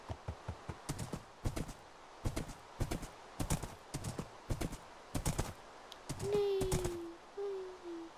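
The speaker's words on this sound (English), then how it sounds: "Look how cute the skeleton horse is." Skeleton horse hooves in the Minecraft video game clop in a quick, irregular series of sharp taps, followed by a high, drawn-out tonal call near the end.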